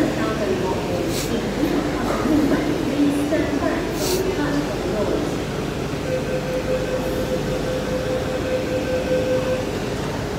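An MTR train rumbles steadily past Lam Tin Station during rush hour, a broad continuous roar with faint wheel squeals and a high tone near the end.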